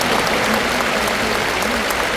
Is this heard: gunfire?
no